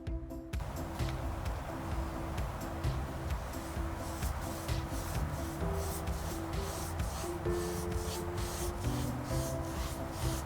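Green patina spray hisses from a sprayer onto a large planter coated in still-wet patina paint, a close continuous hiss with faint intermittent rubbing and handling noises.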